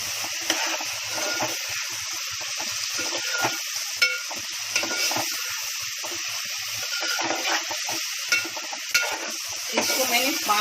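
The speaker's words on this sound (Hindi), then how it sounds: "अब इसमें करी पत्ता अपना जाएगा, तो मिर्ची जाएगी और एक जीरा और राई जाएगी" Curry leaves, chillies, cumin and mustard seeds hit hot oil with garlic, giving a loud, steady crackling sizzle close by, with occasional louder spits and pops throughout and no voices.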